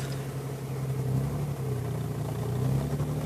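A stick-shift car backs slowly down a driveway, its engine giving a steady, moderately loud low rumble and hum with slight swells and no talking.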